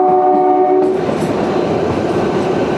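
Kalka–Shimla heritage toy train sounding its horn, a loud steady tonal blast for about a second, then continuous loud rumble and rattle of the carriages running close by.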